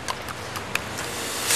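Horse hooves clip-clopping during a horse ride outdoors, several faint, irregular hoof knocks over a steady background hiss.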